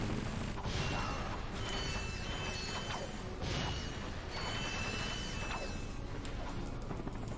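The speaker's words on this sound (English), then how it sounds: "you can just wrench this pipe and when it's broken you can climb on it" Pipe being smashed with a wrench in the game Ratchet and Clank: repeated metallic whacks and crunches over a dense, busy bed of game music and effects, loud throughout.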